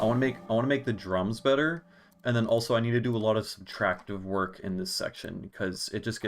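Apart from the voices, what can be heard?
No everyday noise stands out behind the speech.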